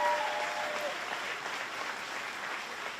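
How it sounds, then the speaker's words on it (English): Steady audience applause at a political event for Kentucky politicians at Fancy Farm, a dense clapping wash holding fairly even across the whole stretch with no speech over it. "let's give everybody who's up here a round of applause if we could"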